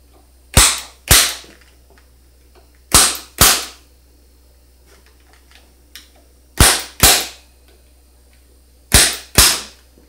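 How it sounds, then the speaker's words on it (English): An automatic punch strikes the top of an aluminum TV antenna boom to mark pop rivet holes above the elements, giving four pairs of sharp, loud snapping clacks with quiet gaps between and a faint low hum underneath. "I'm using the same technique with the automatic punch to punch the pop rivet hole in the top of the boom"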